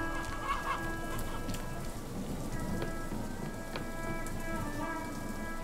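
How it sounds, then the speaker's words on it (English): Chicken clucking in a video game, several short clucks heard close over a steady patter of rain on surfaces, with no talking. "Chicken."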